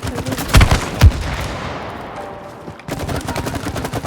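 Gunfire in the co-op video game It Takes Two: two sharp, loud booming shots in quick succession, followed by a fading tail and rattling bursts of game action near the end.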